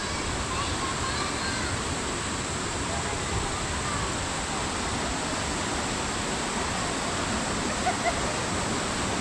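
Continuous roaring rush of falling water at Josephine Falls, Australia, broad and steady, filling the whole space with no breaks.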